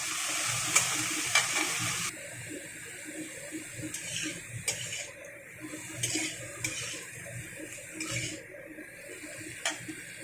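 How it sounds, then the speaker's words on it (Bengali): Lau shak stems stir-fried in a pan, a steady close sizzle broken by repeated scraping and clinking of a spatula turning them, with no talking. "ডাঁটাগুলো দেওয়ার পরে কিছুটা নাড়াচাড়া করে নেবো"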